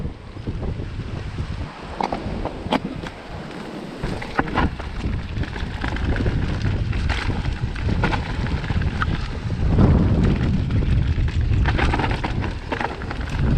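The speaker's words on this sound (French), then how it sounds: "il y a énormément de vent" Strong wind roars across the rocky summit of Monte Arsenti, buffeting the microphone in a dense, continuous rush with gusts that swell louder near the end, heard alone without voices.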